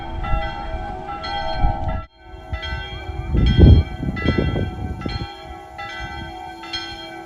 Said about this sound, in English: The bell's ringing in the distance right now.